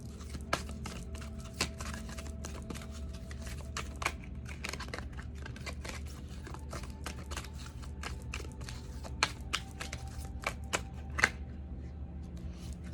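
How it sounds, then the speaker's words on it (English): Crisp riffling and snapping of a deck of cards being shuffled, with repeated sharp flicks over a low steady background hum. "I'm gonna shuffle one more time."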